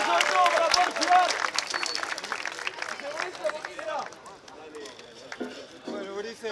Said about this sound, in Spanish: quiero un fuerte aplauso de nuevo para él